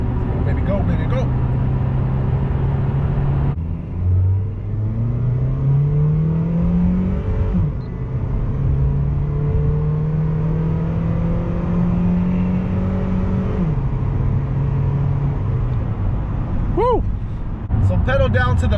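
A 2007 Honda Civic EX engine revs hard at full throttle, its rising drone climbing in pitch through several gear pulls with brief drops between shifts, loud and steady inside the cabin; a voice speaks near the end.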